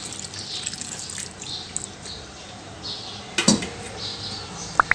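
Water splashes into a hot pan of frying soya chunks and masala, with a brief gush, light metallic clinks and a few drips against a soft background hiss.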